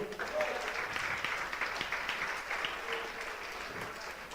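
A standing church congregation claps during a service, the applause quiet and distant, with voices mixed in throughout.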